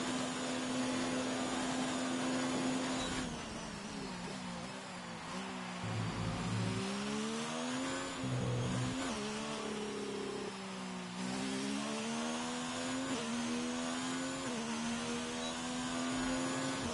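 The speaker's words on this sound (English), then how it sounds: "Let's get on board with him and let him take us around a lap here in Brazil in the F1 2019 Codemasters game." F1 2019 race car from the Codemasters video game lapping the Brazil circuit, a high engine note rising through the gears, dropping on downshifts for braking and climbing again, continuous and close, with no talking.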